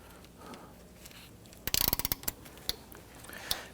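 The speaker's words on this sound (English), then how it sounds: "you can use your ratchet like I'm doing" A hand ratchet with a 12mm socket and extension loosens the battery clamp bolt on a 2011-2015 Kia Sorento, giving a quick run of sharp metallic clicks, then a couple of isolated ticks against a quiet background.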